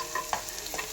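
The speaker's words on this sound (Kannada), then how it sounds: "ಈರುಳ್ಳಿನ ಚೆನ್ನಾಗಿ ಫ್ರೈ ಮಾಡ್ಕೋಬೇಕು." Onions frying in oil with cumin and mustard seeds, a soft steady sizzle with a light stirring scrape, close and brief.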